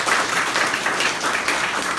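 A crowd at a sales seminar applauds in a dense, even burst of clapping that stays steady for two seconds with no pause.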